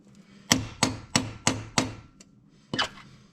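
Tools serve as makeshift hammers in a mechanic's shop during removal of a cylinder head on a 2015 Hemi 5.7: five sharp, evenly spaced metallic blows, a brief pause, then one more strike, loud and close.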